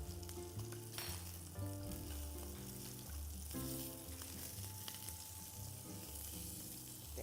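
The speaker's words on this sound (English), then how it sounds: "once I add the butter, I will be basting it" Sea bass fries in a pan as butter is added and spooned over it, producing a loud, dense sizzle over a constant background of tonal hum and clatter, with no talking.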